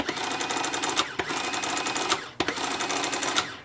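A loud Casio printing calculator printing, with a rapid mechanical buzzing chatter in two long bursts separated by short pauses and clicks.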